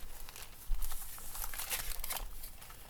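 Gold metallic foil crinkled by hand in close-up, a steady papery rustle with crisp crackling bursts that swell through the middle and carry on to the end, with no talk.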